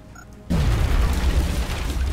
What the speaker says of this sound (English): Big, big frickin' boom. Throwing grenade!